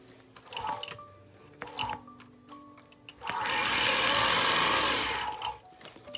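A quilting machine stitches along a ruler in rapid short bursts of ticking needle strokes, then one sustained fast whirring run before slowing again, close and clear.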